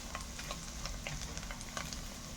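Tomato paste sizzles in a hot pan of buttered garlic while being stirred, with a constant frying hiss and quick repeated stirring strokes close by.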